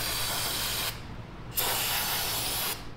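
Crud Blaster 3000 sprayed from a can during teardown of an axle: two long, loud hissing bursts close by, separated by a short pause, with the spray ending near the close.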